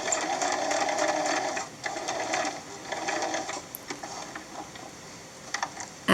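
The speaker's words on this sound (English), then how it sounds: "Use a straight stitch to sew around the long edges, pivoting at the corners, sewing over the ribbon." A sewing machine runs a straight stitch through chalkboard fabric and ribbon, a steady mechanical whir with rapid ticking that slows and pauses briefly near the corners before finishing with faint clicks.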